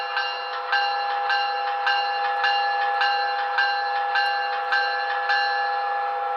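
The electronic bell of a Broadway Limited GG1 electric HO-scale DCC model locomotive with Paragon 3 sound rings in a steady, even rhythm, about ten clear metallic strikes, close and alone.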